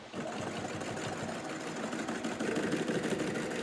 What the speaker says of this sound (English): and then sew and then backstitch again